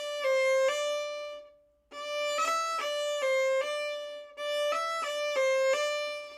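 On an up bow, an Irish fiddle repeats the roll ornament in three short phrases separated by brief breaks. Each phrase is a held note ornamented with quick cuts, played solo and close up.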